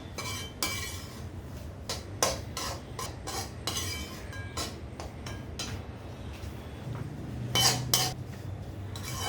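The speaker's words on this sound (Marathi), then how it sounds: "पहिले आपण आता हा रवा भाजून घेऊ एकदम मंद गॅसवरती भाजायचा आहे" Semolina dry-roasting in a pan over low gas, stirred with a metal spoon, giving quiet repeated scrapes and clinks against the pan in an irregular rhythm, alone and close.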